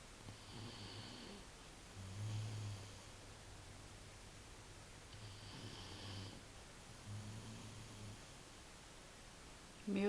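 A sleeping person snores softly, with a few low, rumbling breaths that rise and fade under steady background hiss, quiet and close.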